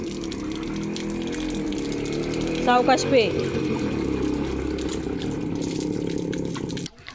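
A household water tap runs steadily for a pet dog named Leo, a constant rushing stream with a brief louder splash midway, as someone talks nearby before the flow cuts off.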